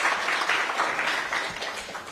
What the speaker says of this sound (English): Another round of applause for Mr. Kagwa.